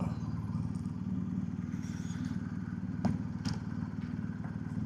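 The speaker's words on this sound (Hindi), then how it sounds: "यहाँ पे खड़ी करते हैं बाइक" BMW F450 GS motorcycle idling steadily while being parked, a low continuous engine rumble with a couple of brief clunks and thuds near the end.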